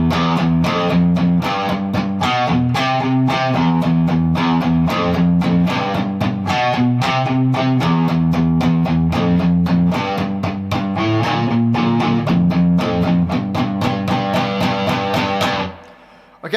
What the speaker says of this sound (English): that takes us to the chorus, which sounds like this.